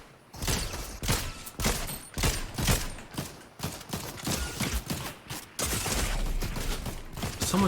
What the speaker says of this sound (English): Someone's shooting me from some.